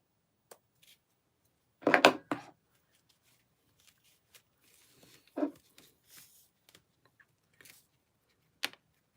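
Scissors snipping at curly wig hair, a few short, sharp crisp cuts scattered among quiet handling noises, close and fairly faint with long pauses between.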